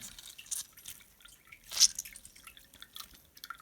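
Water drips and splashes as a washed item, used while preparing sugar syrup for autumn feeding of bees, is wrung out by hand, with one louder squeeze and trickle in the middle among scattered small drips.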